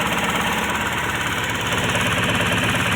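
A Mahindra Maxximo passenger vehicle's engine, with a broken frame, idles steadily just after starting, a loud close rough knocking drone with no voices.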